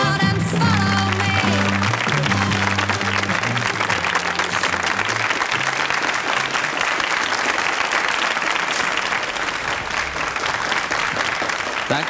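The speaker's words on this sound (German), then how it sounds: "Der Applaus ist ohne Zweifel verdient." A studio audience at a 1973 Austrian TV show gives a singer loud, sustained applause that continues for the whole stretch while the last sung notes fade out at the start.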